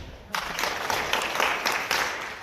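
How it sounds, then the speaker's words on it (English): A group at a Tu B'Shevat solidarity gathering claps in unison seven times, sharp even beats in a quick steady rhythm after a short pause. "And now we clap 7 times."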